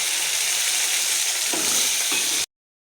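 Onion and tomatoes frying in hot oil with mustard seeds and cumin for a home-style chickpea usal, a steady close sizzle with a couple of soft stirring knocks, then abrupt silence.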